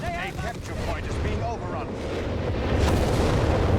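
A Nebelwerfer rocket artillery battery fires in Company of Heroes 3, a steady rumbling roar of launches and booms building slightly louder toward the end, heard beneath a commentator's speech.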